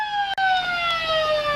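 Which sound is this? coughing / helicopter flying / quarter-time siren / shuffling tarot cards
quarter-time siren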